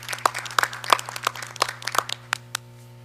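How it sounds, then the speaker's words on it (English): Sparse applause at a Coatesville Area School District board meeting for new board members, a dozen or so distinct claps in an uneven rhythm over a steady low hum, thinning out and stopping. "A round of applause to those new board members who have been joining us up here on the stage"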